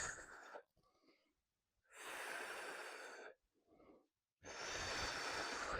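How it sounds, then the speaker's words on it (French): Breathing during a chair yoga session: three loud, drawn-out breaths of roughly a second each, pushed out through the mouth and nose, separated by softer intakes and brief pauses. "C'est ce qu'on appelle la respiration Kapalabhati."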